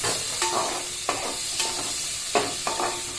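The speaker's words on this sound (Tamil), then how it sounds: "பெரிய வெங்காயம் முதல்ல வந்து பார்த்திங்கன்னா கொஞ்சம் பொன்னிறமாக வறுத்துக்கலாம்" Large onions frying in palm oil in a pan for pressure-cooker chicken biryani, with a steady sizzle and a series of spatula scrapes at irregular intervals, close and clear with no voices.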